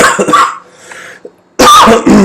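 A loud cough bursts out near the mic after a brief pause, followed by a second harsh cough.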